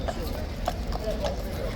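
A horse's hooves clip-clop on a London street, several distinct hoofbeats over steady traffic and crowd noise, with people talking nearby.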